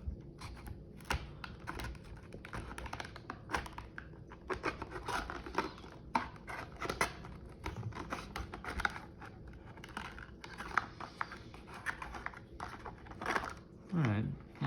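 Plastic clamshell packaging for TruGlo TFX Pro night sights being cut open along its edge, crisp irregular snips, crinkles and rustles close by, with someone speaking intermittently over them.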